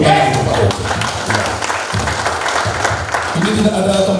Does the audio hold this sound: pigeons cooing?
no